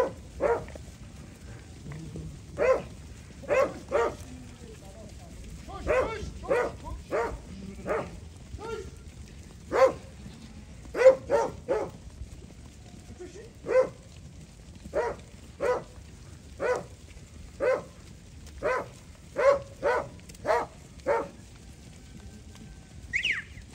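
Dogs bark in sharp, separate bursts, roughly twenty over the stretch, at an uneven rhythm, moderately close against a quiet outdoor background with faint low rumble.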